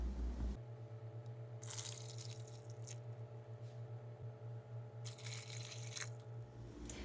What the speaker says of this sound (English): So I'm just gonna rinse these out right through the strainer